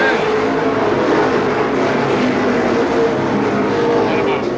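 Pro stock cars race at Seekonk Speedway, a loud, dense roar of engines sustained throughout as the field runs after a restart, with a commentator talking over it.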